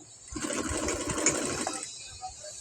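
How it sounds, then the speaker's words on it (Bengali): Sewing machine stitching fabric, a brief close burst of rapid mechanical whirring lasting about a second and a half before it stops, with a faint background hum. "এবার আমি সেলাইটা দিয়ে নিব।"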